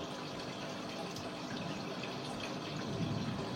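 Water from a pump pours into a hydroponic DFT pipe, a steady, soft trickling and gushing flow that runs continuously at close range with no voices.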